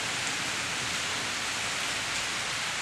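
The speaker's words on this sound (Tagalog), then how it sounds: "sobrang ulan dito" Heavy rain pours steadily in Santa Maria, a dense, constant hiss that fills the whole stretch with no voices over it.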